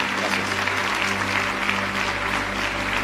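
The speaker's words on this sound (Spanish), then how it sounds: "Un aplauso para usted, querida hermana." A congregation applauds a 93-year-old sister, a thick, continuous rush of clapping from many hands at constant loudness, with a low hum running underneath.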